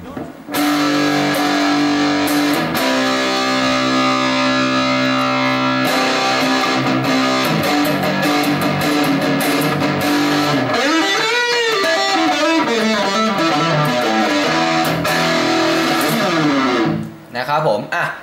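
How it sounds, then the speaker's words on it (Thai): Electric guitar, a J&D SG, played through a Pae Music Over Dive distortion pedal into an MPV amp, giving a loud, continuous distorted tone with sustained chords and then bending lead notes near the end, alone without talk. "เดี๋ยวเรามาฟังเสียงแตกธรรมดาก่อนนะครับผม"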